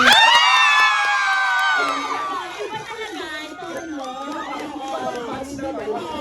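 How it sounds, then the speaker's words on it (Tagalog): Fan-event crowd bursting into loud clapping and cheering, a bright surge of shouts and whoops at the start that settles into busy crowd chatter and scattered yells. "Then, palakpak, magkasama hiyawan"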